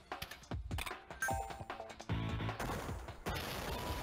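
Spread shot weapon firing in the Spectrobes video game, a dense run of sharp, overlapping electronic shots in quick bursts, loud and busy throughout with no talk.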